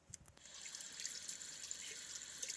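Tap water streams steadily over a denture being rinsed after filing down sore spots, a continuous close hiss of running water with a few brief splashes at the start.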